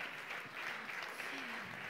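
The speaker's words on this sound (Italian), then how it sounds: "Applauso." Audience applause at a talent singing event, a faint steady wash of many hands clapping from a distance with no clear individual claps.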